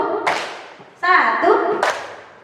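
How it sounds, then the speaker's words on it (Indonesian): A group of children and a teacher clap a short counted combination pattern in a classroom, with sharp bursts of clapping and thuds separated by brief gaps and a voice calling between them. "Ini namanya tepuk kombinasi kecil ya"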